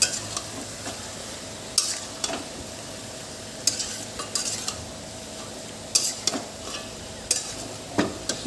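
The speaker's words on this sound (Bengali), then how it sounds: "তাই জন্য মাংসটা আমিই কষছি" Meat being stir-fried for a kosha curry in a pan, a soft continuous sizzle broken by repeated scraping and clinking of a spatula against the metal, fairly close, with no talk.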